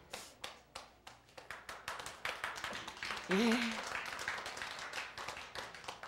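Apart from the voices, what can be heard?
audience clapping to welcome a speaker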